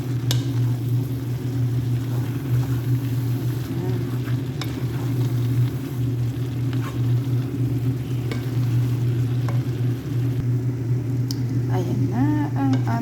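Bihon rice noodles stir-fried in a pan, a continuous sizzle over a steady low hum, with occasional scrapes and clinks of stirring; a voice speaks briefly over the cooking.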